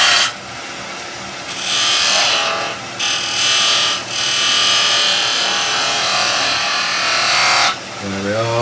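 Wooden Christmas tree decoration shaped like a house being rounded over on a lathe, with a steady scraping, rasping cut that runs for several seconds, broken by short pauses, close and loud, then stops near the end.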